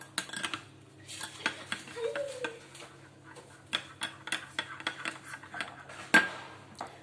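Pizza dough made without milk, eggs or butter being stirred in a bowl with a spoon, soft irregular scraping and clinking taps close by, quiet and without talk.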